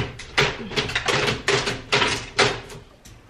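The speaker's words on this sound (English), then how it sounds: "My dog knows how to open the door." A dog working a door open, heard as a close series of about six sharp taps and knocking thuds in an uneven rhythm, fading toward the end.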